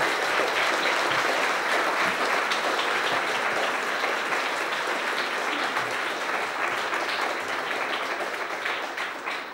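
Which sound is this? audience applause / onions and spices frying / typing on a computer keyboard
audience applause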